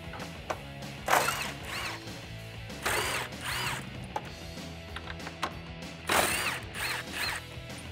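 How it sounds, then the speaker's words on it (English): Ratchet turning 10 mm bolts out of the top of a RAM 1500 grille, several rapid zipping ratchet bursts of about a second each, separated by pauses and lighter clicks, close and fairly loud. "we can remove the four 10 millimeter bolts that are holding in the top of the grill."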